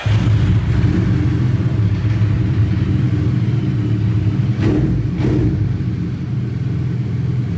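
Suzuki Hayabusa superbike idling through a 2 Brothers aftermarket exhaust, a deep, steady throbbing rumble heard up close, with a couple of brief throttle blips near the end.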